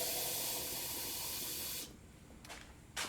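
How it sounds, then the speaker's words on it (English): Tap water pours from a faucet into a blender for a carrot breakfast cookie batter, a loud steady broadband rush for nearly two seconds, then stopping, with faint brief splashes and a short hiss afterward. "And to that, I'm just gonna add some tap water."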